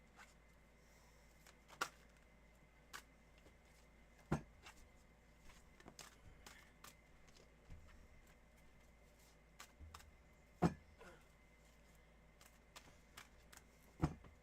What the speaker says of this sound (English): Let me do a cleansing shuffle for you.